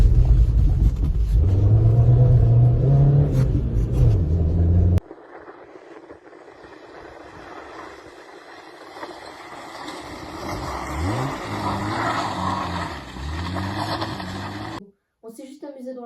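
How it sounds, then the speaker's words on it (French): Peugeot 306 car driving and sliding in snow, handbrake turns on a short fun run; a loud engine rumble at first, then quieter driving with shifting revs, and people talking over it. "un roulage très court mais très marrant avec une Peugeot 306"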